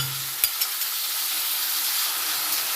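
Onion and capsicum fry in a pan with garlic and ginger paste, giving a steady close sizzle with a couple of soft clinks near the start and no talking.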